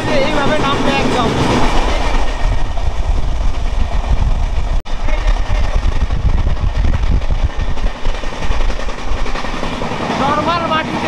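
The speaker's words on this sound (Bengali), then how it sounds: "আমাদের ট্রেনটা একদম একটা ছোট পাহাড়ের উপর, মানে এইভাবে উঠলে এইভাবে নামবে একদম।" The Rupasi Bangla Express runs on the Kolkata to Purulia line, and a steady loud rumble and rattle of the carriages rolls on without a break, heard from on board.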